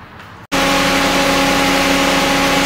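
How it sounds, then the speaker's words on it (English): A car engine runs steadily just off idle during air-conditioning diagnosis, a loud continuous hum with a clean harmonic tone that cuts in abruptly after a brief quieter start and holds even to the end. "So with the engine running here,"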